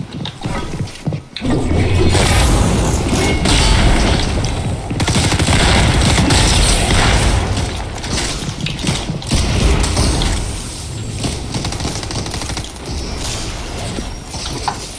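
Dense, loud Fortnite VR gunfire during a castle defense, continuous volleys and rattling mechanical clicks for the whole stretch, with no talk over it.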